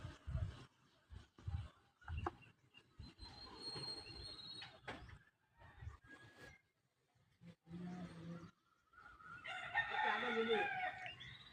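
Ongole Berasa breed fighting hens cluck and shuffle quietly before a fighting rooster lets out a full crow near the end, close by and fairly loud.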